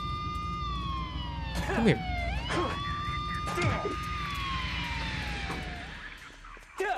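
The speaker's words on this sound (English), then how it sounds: "I hate the police car. The cop car needs to go." A police car siren wails in rising and falling sweeps in the video game Silent Hill: Downpour, loud and continuous while a voice speaks briefly over it.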